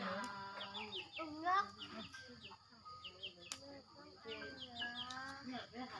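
Chickens cluck and chirp in short, repeated bursts close by in a rural outdoor setting, while people talk intermittently in the background.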